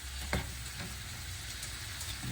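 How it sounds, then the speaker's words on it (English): Stir fry sizzling in a hot pan, a steady close hiss with a couple of soft knocks as it is stirred. "And we'll give that a quick stir."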